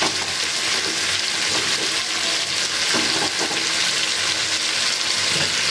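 Chopped tomatoes and spice paste sizzle and get stirred in a pan for Bengali lentil dumpling curry, a steady loud frying hiss with scraping stir strokes, close up and without talk.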